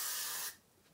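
A can of freeze spray hisses onto a lace front wig in one loud, close burst lasting about half a second, then cuts off into quiet room tone.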